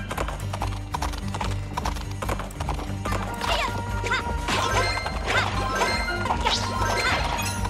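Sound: horses galloping and neighing in Princess Peach: Showtime! video game

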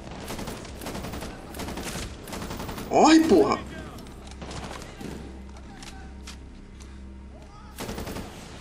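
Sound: gunfire in a video game

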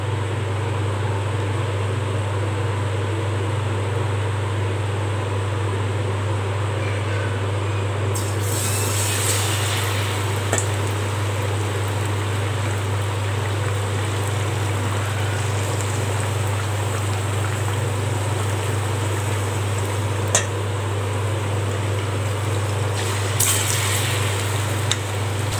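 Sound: nendran banana bajji dipped in batter and frying

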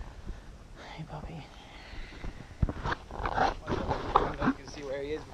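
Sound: dog

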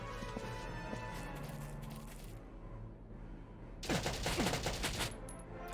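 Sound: gunfire in video game Valkyria Chronicles Remastered

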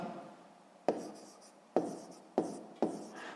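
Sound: writing by hand

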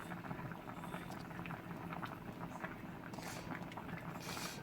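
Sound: tteokguk rice cake soup boiling in a pot

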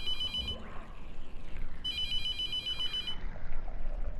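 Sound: telephone ringing in The Mortuary Assistant video game

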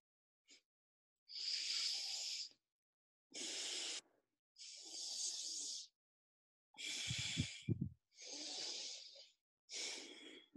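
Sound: yogic alternate nostril breathing

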